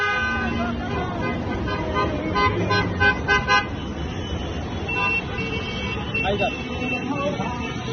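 Street traffic with a crowd of voices and several car horns tooting in short bursts, a busy celebratory procession of vehicles passing nearby in Iraq.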